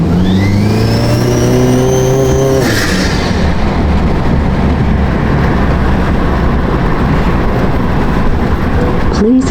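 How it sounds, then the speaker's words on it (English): A car with a catless downpipe accelerates hard on a test drive, its engine note rising steadily in pitch as it revs up through the gear, then holding a loud, droning exhaust roar heard from inside the cabin. "I'm gonna test drive it to make sure there's no more leaks"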